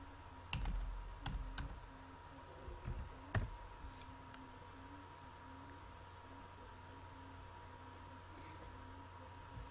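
Typing facebook.com on a computer keyboard, a short run of quick, close key clicks in the first few seconds over steady low room hum, then near silence.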